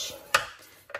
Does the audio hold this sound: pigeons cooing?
no